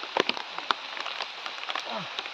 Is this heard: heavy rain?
yes